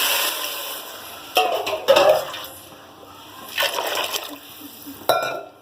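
Water is poured into curry cooking in a pan: splashy, sizzling bursts with stirring scrapes, loudest near two seconds and again around four, close by with no talk.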